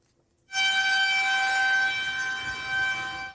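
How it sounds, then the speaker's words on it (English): A loud outdoor tornado warning siren starts abruptly and holds a steady wailing tone, droning on continuously. "You hear the sirens right there."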